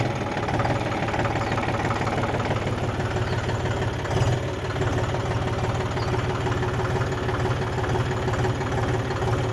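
A John Deere 5050D tractor engine runs at low speed, giving a steady, close, low throbbing rumble with a faint knocking pulse that continues without a break.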